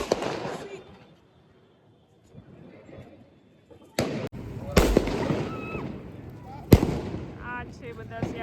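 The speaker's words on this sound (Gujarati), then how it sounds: "એક વાગી ગયો છે પણ અમારા ફટાકડા પૂરા થવાનું નામ જ નથી લેતા" Diwali firecrackers and fireworks go off late at night in Ahmedabad: a quiet lull, then several sharp, loud bangs a second or two apart, with people talking and laughing between bursts.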